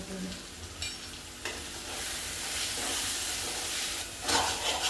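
Masala of turmeric, homemade chutney powder and black masala sizzling steadily in hot oil in a home kitchen pan while being stirred, a continuous near frying hiss with scraping stir strokes, louder toward the end.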